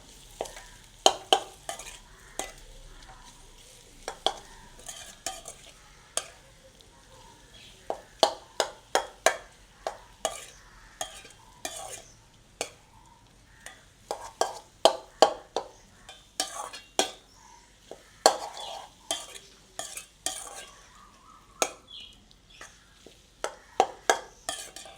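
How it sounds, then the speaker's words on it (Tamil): Ingredients for egg bonda are stirred and tossed in a pan, a long run of sharp, irregular scraping clicks of the utensil over a low, faint sizzle. "இந்த உப்பு எல்லாம் வடிவாக சேர்கிற மாதிரிக்கு வடிவாக பிரட்டி விடணும்"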